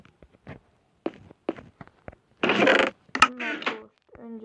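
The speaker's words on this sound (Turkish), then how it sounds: "Şifre. Kapı açılıyor." Minecraft door opening after a password is entered, heard as a string of short clicks and taps, then a loud burst of grinding and creaking mechanism noise near the middle, followed by softer thuds.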